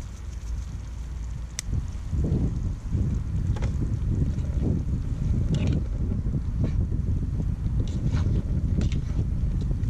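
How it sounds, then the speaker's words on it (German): Strong outdoor wind buffets the microphone in a continuous low roar with gusty surges throughout, loud and close, beside an outdoor cooking spot on a Jeep Wrangler trip. "der Wind macht mir heute wieder zu schaffen."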